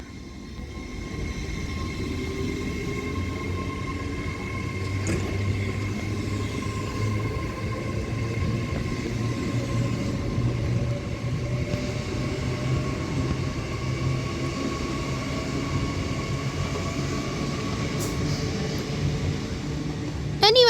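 Avanti West Coast class 807 Evero electric train departing Tamworth station, a steady distant rumble with a faint rising tonal whine under constant background noise, continuing evenly throughout.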